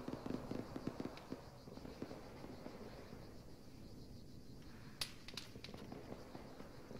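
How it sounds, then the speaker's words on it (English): Rounds land nearby in Arma 3 with a scatter of sharp cracks and pops, a denser burst early and a few louder snaps later, over a dull background rumble. "It's rounds landing next to us."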